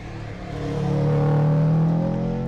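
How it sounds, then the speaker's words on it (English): A Subaru GC8 WRX race car accelerates at a hill climb test day, its engine note rising and swelling into a loud, steady roar that holds strong before easing slightly, with no talking. "Believe that to be the GC8 WRX."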